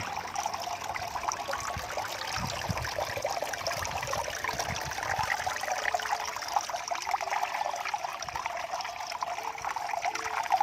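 Water trickles continuously into a basin, a steady close splashing dribble that holds at an even level throughout without talk.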